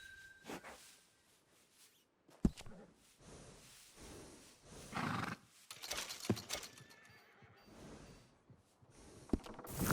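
A horse in the video game Red Dead Redemption 2 whinnies and snorts, with hoof clip-clops and breaths mixed in, several bursts spread across a quiet background at moderate loudness.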